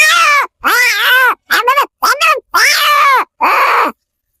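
A man imitates a cat's meow with a series of six or seven loud, wavering, whiny mewing calls separated by short pauses, close to the microphone, with no other talk.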